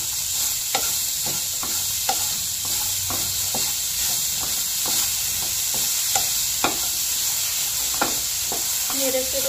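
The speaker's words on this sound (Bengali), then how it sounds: "এবার এগুলোকে নেড়ে নেব।" Cut potatoes tossed into a frying pan and stirred, a constant hiss of oil with regular sharp spatula clacks and scrapes against the pan, no voices.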